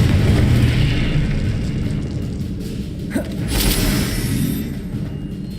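Confringo blasting spell going off in Hogwarts Legacy: a dense, rumbling burst of magical energy with a sharp crack partway through and a swelling whoosh, loud and sustained over steady game background.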